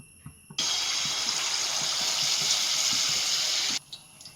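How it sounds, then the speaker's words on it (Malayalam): Neyyappam batter hits hot oil with a sudden loud, steady sizzle that holds for about three seconds and then cuts off abruptly. "ഈ എണ്ണ ചൂടായിരുന്നു. നമുക്കിതൊന്ന് ഒഴിച്ച് നോക്കാം"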